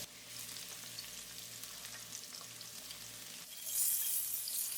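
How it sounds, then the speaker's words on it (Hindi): Garlic sizzles in a quarter cup of hot oil for shrimp fried rice, a steady close crackle with occasional stirring, the spitting growing brighter and louder toward the end. "1/4 कप ऑयल डालेंगे, साथ ही इसके अंदर शामिल करेंगे गार्लिक।"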